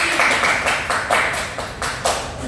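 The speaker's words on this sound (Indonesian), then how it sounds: "untuk tepuk tangannya yang baik" A classroom group claps hands in a micro-teaching lesson, a burst of several claps that falls into a rough rhythm of repeated swells and then fades. No voices are heard over it.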